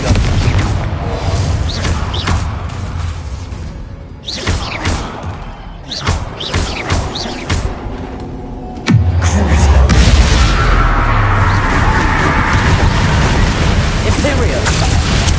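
Confringo spell explosions during combat in Hogwarts Legacy, heavy booms and thuds at irregular intervals with a loud blast near the middle, amid crackling magic effects and a voice casting spells.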